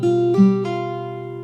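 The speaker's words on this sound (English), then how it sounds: "Then we've got a little hammer on and pull off section." Fingerstyle acoustic guitar playing a short hammer-on and pull-off phrase, clear sustained notes ringing over a bass note, three quick plucked attacks, played alone.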